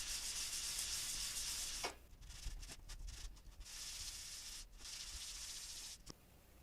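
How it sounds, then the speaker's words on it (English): Fine 400-grit sandpaper rubs close up over a piece of cosplay clay. The steady, hissing scrape comes in long strokes broken by short pauses and a few light taps, and nobody speaks. "I got right here a piece of 400 grit, which is even finer than the 150. So I'm just gonna use that for a second."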